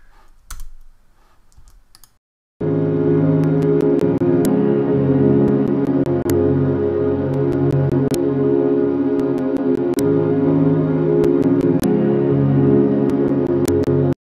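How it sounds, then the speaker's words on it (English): A music track plays at half speed and one octave lower, giving a dense, sustained, low-pitched mix with regular sharp transient hits after a short quieter lead-in with clicking. "It's going to half speed it and pitch it down one octave."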